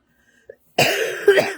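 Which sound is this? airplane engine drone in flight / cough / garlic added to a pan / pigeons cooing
cough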